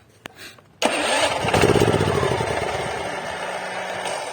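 Daewoo DAIG 3000 S inverter generator started by push button: a quiet click, then the engine catches abruptly and settles into a loud, steady running drone close by.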